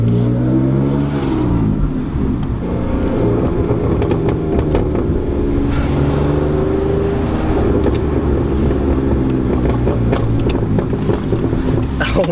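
A BMW E46 engine revs and drones loudly as the car is driven, with a rising and falling tone under wind noise.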